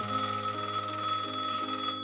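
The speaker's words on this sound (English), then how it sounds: "I can't get the phone, can I?" Telephone ringing indoors with a steady electronic trill that holds for about two seconds at moderate volume, with no voices present.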